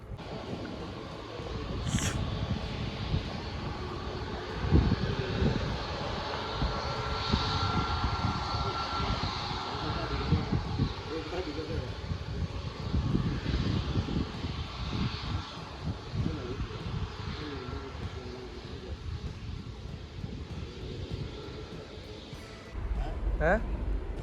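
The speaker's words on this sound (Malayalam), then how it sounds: "ഒരു ഫ്ലൈറ്റ് ഇങ്ങനെ ഇളകി വരുന്നുണ്ട് ഇങ്ങോട്ട്" A propeller airplane drones steadily overhead for a long stretch as it approaches to land at Cochin International Airport, its engine noise rising and falling through wind buffeting, with people talking now and then.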